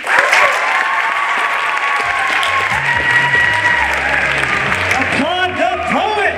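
A school crowd at a ninth-grade poetry slam applauds a poet in loud, sustained clapping with cheering, while a voice speaks over the ovation and cheers rise near the end.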